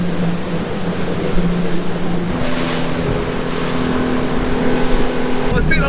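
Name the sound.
boat running at 30 knots over open water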